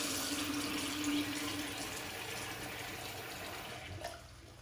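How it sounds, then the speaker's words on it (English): Water runs steadily from a tap while someone mixes shave butter, a continuous soft hiss and splash, fairly quiet and close, with no talking. "Add some more water."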